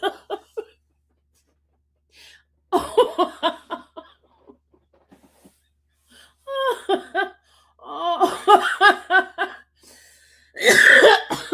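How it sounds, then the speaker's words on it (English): Scattered bursts of coughing and gasping, close up, broken by pauses, building to harsher fits near the end. "Y'all making me cough."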